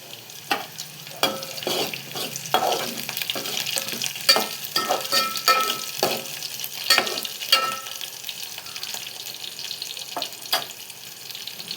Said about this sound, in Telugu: ఉల్లిపాయలు కాస్త వేగుతున్నప్పుడు మనం ఇందులోకి పచ్చిమిర్చి యాడ్ చేసుకున్నాం.